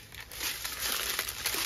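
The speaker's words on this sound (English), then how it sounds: "sorry for the crinkling plastic" Thin plastic packaging from a diamond art kit crinkles and rustles continuously during an unboxing, close and fairly loud for under two seconds, with no speech.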